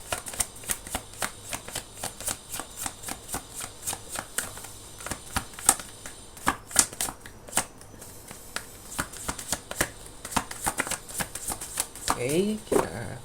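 Tarot cards are shuffled by hand close up, a dense run of crisp riffling slaps and flicks that goes on steadily, with quiet speech beneath and near the end.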